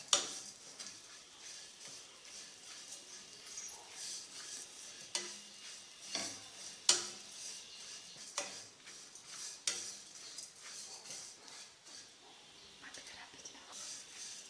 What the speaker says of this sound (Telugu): గ్యాస్ అనేది బాగా చిన్నగా పెట్టుకొని సేమియాలు అనేది వేడి చేసుకోవాలి.